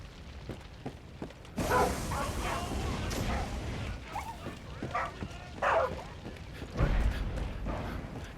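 Dog in the video game Far Cry 5 growls and whimpers in rough bursts over low game ambience, fairly faint, with a few louder swells.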